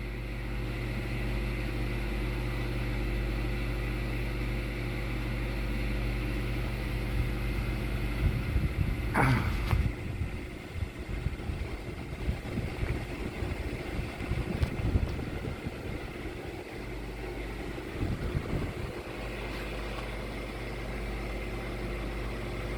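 A household ceiling fan spins down after being switched off, giving a steady low whir and hum with a few faint clicks and knocks partway through, with no talking.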